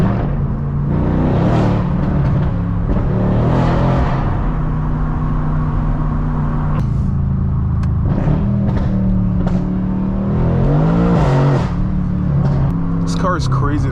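A 650 hp Mercedes-AMG C63 engine rumbles and revs loudly from inside the car while driving, rising and falling in pitch over about fourteen seconds, with someone talking excitedly over the engine.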